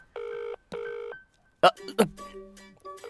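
Two evenly spaced electronic ringback tones sound through a phone, followed by brief clicks and other tones.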